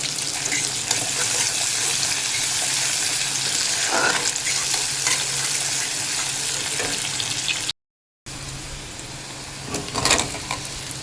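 Panch phoron spices sizzle and fry in hot oil while being stirred for a Bengali shol fish jhol, a steady crackling hiss that drops out briefly near the end before resuming.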